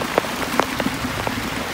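Heavy rain pouring down outdoors after a storm, a dense steady hiss with scattered sharper drop impacts throughout, close and continuous with no voices.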